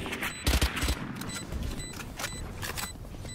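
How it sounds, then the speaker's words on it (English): Gunshots in a tactical video game firefight, two or three sharp bursts close together early on, followed by softer scattered shots and game effects, with no talk. "Random shot."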